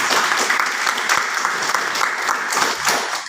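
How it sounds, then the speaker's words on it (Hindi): Loud, energetic clapping from an audience at a network marketing seminar, a dense continuous wash of hands with a few sharper individual claps standing out before it tapers off. "जोरदार ताली।"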